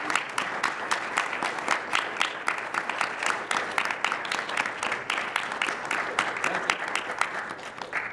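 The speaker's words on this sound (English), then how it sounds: "give Ed a big round of applause" A speech-contest audience gives a steady round of applause, dense fairly distant clapping sustained throughout without a break.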